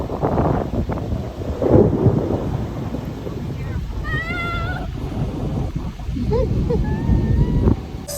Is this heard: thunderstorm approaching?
yes